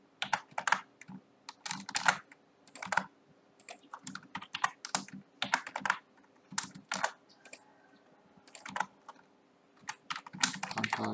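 Keystroke shortcuts tapped out on a computer keyboard while building a multiple-choice quiz in Moodle, heard as close, crisp clusters of key presses in uneven bursts with short pauses between them and no talking.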